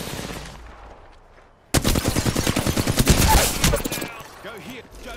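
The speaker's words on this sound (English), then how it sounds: "I am taking fire, friends." Rapid automatic gunfire rattles in Apex Legends, a loud sustained burst of dense shots that begins abruptly and runs for a couple of seconds before trailing off into game effects.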